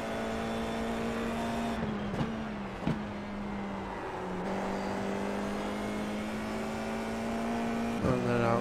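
An open-wheel Formula iR04 race car at Okayama in iRacing holds a steady high engine drone, with quick sharp gearshift blips and a final rising rev at the end, loud and alone.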